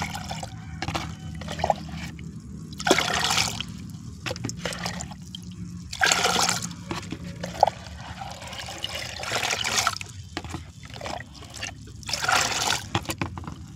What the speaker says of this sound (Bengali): আমরা এটাকে এই 5 লিটার জলের মধ্যে এটাকে অ্যাপ্লাই করে দেবো